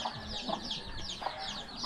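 Chickens cluck softly in short repeated bursts, a few birds close by amid a busy background of chirping and rustling.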